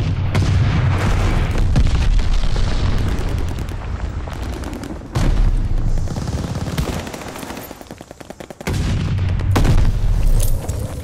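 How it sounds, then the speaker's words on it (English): Heavy booms and rolling blasts from enemy glide bomb strikes in Call of Duty: Vanguard, loud and dense, with rapid gunfire bursts rattling between the explosions and brief lulls. "Heads up, enemy glide bomb coming in hot."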